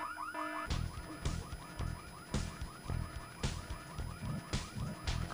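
A car alarm blares in the Full Throttle adventure game, cycling through repeating electronic siren whoops with rhythmic pulsing beats, loud and continuous with no talk.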